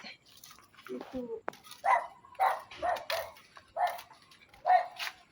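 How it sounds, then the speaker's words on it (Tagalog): A small puppy gives a run of high, sharp yaps, about six in a steady rhythm, close and clear with little else around, in a cemetery. "May inakay na aso. Maliit."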